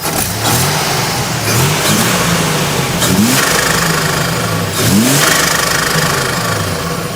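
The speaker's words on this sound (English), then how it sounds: "You can give it a little throttle here. It's responsive." A 1987 Buick Grand National's engine revs up under repeated throttle blips, three or four loud rising surges over a steady, rough idle, close by with no talking.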